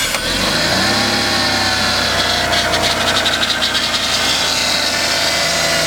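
A Toyota Altezza engine with a damaged power-steering vane pump is running at a steady idle, a continuous close mechanical hum and whine with a faint rattle partway through.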